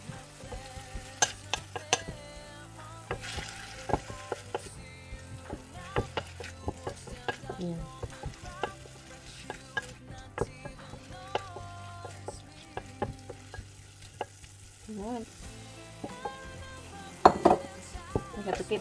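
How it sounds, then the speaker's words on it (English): Pork sizzles and fries in a pan with ginger and spices, with steady crackling broken by frequent sharp clinks and scrapes of a utensil stirring against the pan, fairly close, with no talking. "So I'm cooking first the pork"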